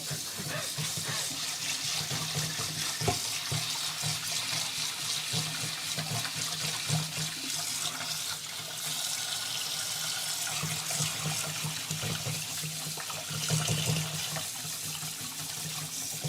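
Water runs steadily from a tap into a bowl of rice being rinsed, a continuous splashing hiss that holds across the whole stretch, with faint handling clatter in places.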